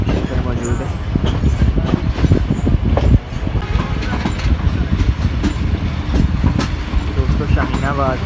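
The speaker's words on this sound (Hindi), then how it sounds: "ये छोटी सी डायमंड क्रॉसिंग से गुजरे हैं अभी हम" A passenger train rolls over a small diamond crossing at Shaheenabad junction on the Sangla Hill–Kundian branch line, with steady loud rumble and a few clacks from the wheels. People talk faintly beneath the running noise.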